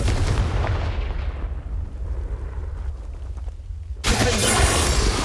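In the Hogwarts Legacy video game, a Confringo blasting spell explodes with a loud, roaring burst that slowly fades over a few seconds, then a second abrupt blast cuts in, both heavy and close with a deep rumbling low end.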